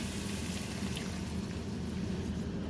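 Water poured into a pan of meat with tomato paste while cooking a keto meat pie filling, a steady close splashing pour lasting a few seconds with no voices.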